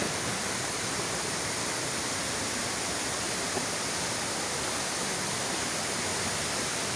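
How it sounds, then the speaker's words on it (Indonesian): A rushing waterfall beside a river at an abandoned campsite, running hard and heavy, giving a dense, steady broadband roar that stays constant throughout with no voices. "kondisi curugnya lagi deras banget"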